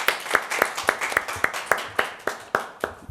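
Audience applause welcoming a presenter at a policy forum on suicide prevention, heard as a steady run of claps with regular sharp peaks, moderately loud and without voices over it.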